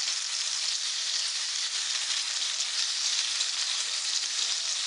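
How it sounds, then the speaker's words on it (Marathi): Spicy pomfret fish frying in a pan, a steady, dense sizzle that holds even and close throughout with no voices. "आता आपण दुसऱ्या बाजूने सुद्धा छान तळून घेऊया।"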